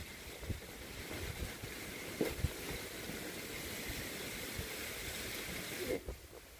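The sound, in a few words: wind during Cyclone Montha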